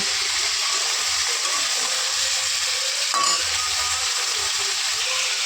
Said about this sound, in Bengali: एबार कुमड़ो और आलूटाके एकटु भेजे नेब